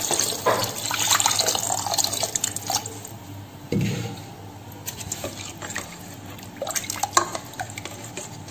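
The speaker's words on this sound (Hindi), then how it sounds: "अब हम इसमें पानी डालेंगे," Water pours and splashes into a chana chaat mixture being cooked with green chili paste, with a running, trickling flow, intermittent drips and stirring clatter close by.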